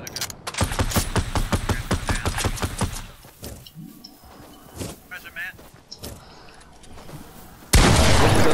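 Gunfire in the video game Fortnite, starting with a rapid burst of sharp shots for about three seconds, then scattered single shots, under players' talk, ending in a loud sustained roar.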